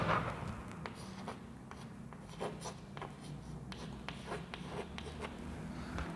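Pen scratching out figures on paper while working an accounting problem for a company balance sheet, a steady run of short strokes and taps, close and fairly quiet, with no talk over it.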